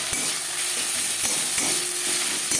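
Fried onion with ginger paste, green chilli paste and crushed garlic cloves sizzles steadily in a pan, with a few sharp spatula scrapes and stirring knocks close by.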